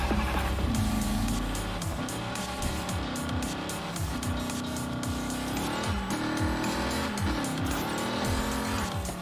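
A Hot Wheels toy car's revving engine whines up and down repeatedly in a racing video game, close and steady, with tires squealing through a loop-the-loop, over loud pulsing background music.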